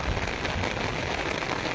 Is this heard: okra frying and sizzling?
no